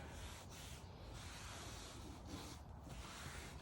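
Special rags wiping Gtechniq C1 Crystal Lacquer ceramic coating off the body of a new Citroen Ami, a steady close soft rubbing and swishing that runs through the whole stretch without pause.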